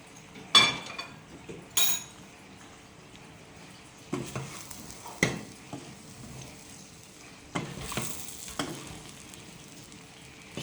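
Spices go into a frying pan of homemade meat pie filling and get stirred, a low sizzle underneath with several sharp scrapes and clinks of a utensil against the pan, close and unaccompanied by talk.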